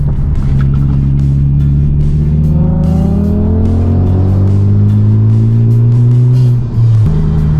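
A Honda Civic Type R engine revs up loudly and climbs steadily in pitch for several seconds, then drops off briefly before roaring again.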